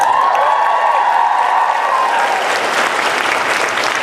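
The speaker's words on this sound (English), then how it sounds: "You're kind of cheering for yourselves in advance, but I believe in you." An audience at a live show in Portland applauds loudly and steadily, with cheering and a whooping voice over the dense clapping.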